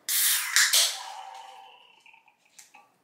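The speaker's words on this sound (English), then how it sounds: "And then I will pour it, and you will see the way it creates the foam at the top." Nitro Pepsi draft cola is poured into a glass, opening with a close, loud foamy gush and hiss that fades into a quiet fizz with a few soft drips.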